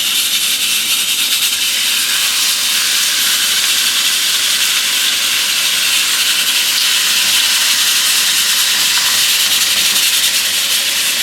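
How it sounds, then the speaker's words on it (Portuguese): Fish fillets sizzle in a hot curved pan, a dense, steady frying hiss that fills the whole stretch at close range with no talking. "A panela ali já tá quente, agora eu vou colocar os filezinhos."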